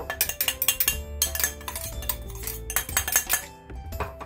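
A bowl is set over ground garam masala on a plate, a rapid run of clinks, knocks and ringing metal-on-metal taps, close and fairly loud, with no voices.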